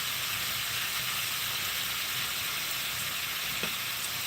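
Lamb chops fry in sesame oil in a hot pan, giving off a steady, close, dense sizzle and crackle that runs evenly throughout with no voices.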